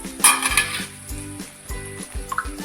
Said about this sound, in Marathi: एक मिनटानंतर भाजीवरती झाकण बाजूला करूया